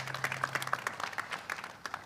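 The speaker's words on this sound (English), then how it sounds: "Give the Lieutenant Governor a big round of applause." Audience applause for New York's Lieutenant Governor at an MTA news conference on Long Island, a dense burst of claps continuing steadily through the clip at moderate loudness.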